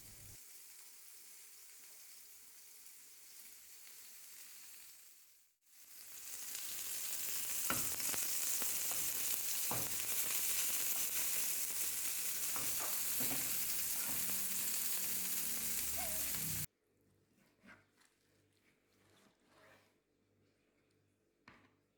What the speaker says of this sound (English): cook the meat for about 7 minutes, flip the steak once or twice until you get the doneness that you want